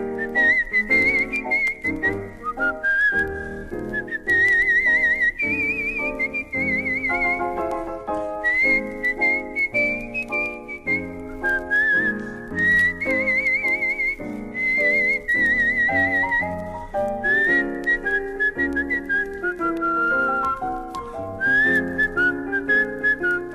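A person whistles a lilting melody, clear and close, with steady musical accompaniment underneath, continuing throughout.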